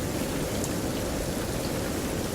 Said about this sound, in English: Can you go ahead and turn down the storm? Turn down the rain.